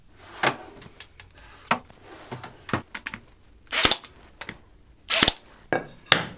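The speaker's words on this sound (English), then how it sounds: "I'm just going to nail this into place temporarily using very short brad nails so I don't go through into my table" Short brad nails are driven into a wooden table-saw jig, giving a series of sharp, loud clacks and snaps at irregular intervals, some isolated and some in quick pairs, close by with no talking.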